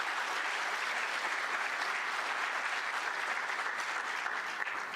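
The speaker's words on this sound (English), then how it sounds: "Let's give her another round of applause." A conference audience at a gathering on African-American history and culture breaks into steady, dense applause that holds at an even level throughout, heard alone from within the room.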